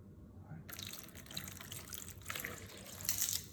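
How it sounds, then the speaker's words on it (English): A basketball is pushed down into a full bowl of water, sending water trickling and splashing over the rim in a steady, close, moderately quiet pour with a brighter spill near the end. "watch what happens when I put this basketball into this bowl of water. The water level is going to rise and it's going to come out of this bowl."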